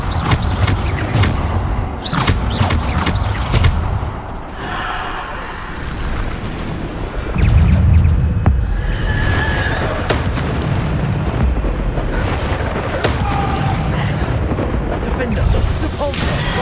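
Explosion spells in the wizarding game Hogwarts Legacy go off as loud booms and bursts one after another amid constant combat noise, with heavier blasts near the start and middle.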